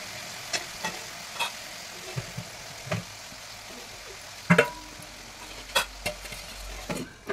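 Small river mourala fish cooking in a pan, a steady low sizzle broken by repeated spoon knocks and scrapes against the metal, with a louder cluster of clatters partway through, close with no voices.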